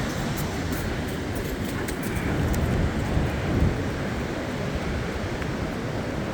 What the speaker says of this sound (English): Yeah, it's pretty windy up here.